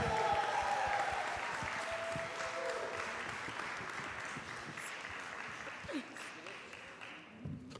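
A crowd applauds Freedom School graduates at a summer closing program, with steady, dense clapping that carries on for several seconds before thinning out near the end.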